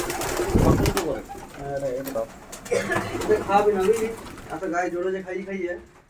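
Giribaz pigeons coo softly in repeated low throaty phrases, close by and mixed with people talking nearby.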